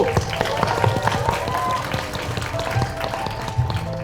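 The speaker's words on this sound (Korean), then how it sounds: "힘찬 박수 한번 보내주세요." Audience applause for the Gurye FC football players at a self-advocacy speech contest for people with developmental disabilities, a steady crackle of clapping with a few sharper claps and a low hum of crowd noise underneath.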